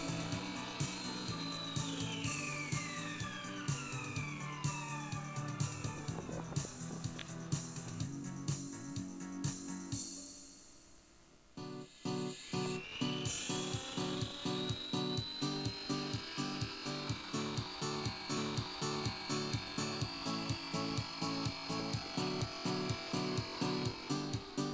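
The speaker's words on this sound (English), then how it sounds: "can actually hover and take off almost vertically in only 7-mile-an-hour wind" Single rotor NOTAR military drone flying, a steady high mechanical whine and buzz with pulsing rotor chatter that briefly drops away near the middle, then resumes at full strength.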